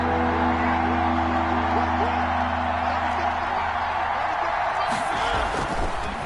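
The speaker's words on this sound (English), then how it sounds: "The crowd getting into it as we come up on a big third" Stadium crowd noise from a PS4 American football game swells as a big third down approaches, a steady, dense roar running under the whole stretch with a brief louder burst near the end.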